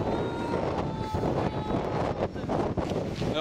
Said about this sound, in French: il y a beaucoup de vent aujourd'hui, ce qui nous fait souvent des dominos avec les vélos